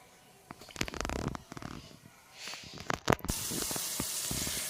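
Frying in a kadai (wok), a soft sizzle with clicks and clatter early on, rising into a steady, louder hiss in the last seconds.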